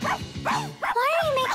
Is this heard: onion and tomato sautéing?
no